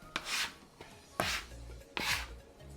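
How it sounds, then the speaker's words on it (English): Bench scraper working 00 flour into a pasta dough made with eggs, giving three or four short, close rasping scrapes against a work surface with brief pauses between them. "now I'm gonna switch over to a bench scraper"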